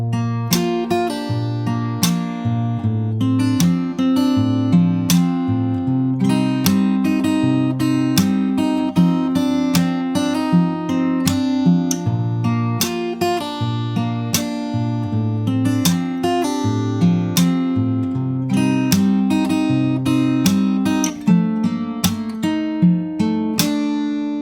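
Fingerstyle acoustic guitar plays a song, with steady picked chords and sharp thumb-slap percussive hits keeping a regular beat, loud and close with no voice.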